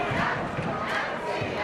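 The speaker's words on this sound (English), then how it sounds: "The crowd here on their feet and ready for action at this ground" A standing crowd at a schools rugby match between St Edward's, Oxford and Magdalen College roars with a broad, steady wash of noise that carries on throughout at fairly high volume.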